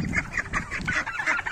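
Geese and Muscovy and mulard ducks in a coop honk and call over one another in a close, busy chorus of repeated nasal squawks.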